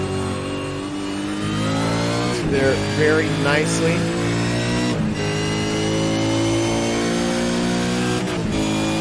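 A Ford V8 Supercar in a racing video game at Imola drones loudly with rising and falling engine pitch, with several sharp gear shifts and a brief braking dip. A commentator talks over it.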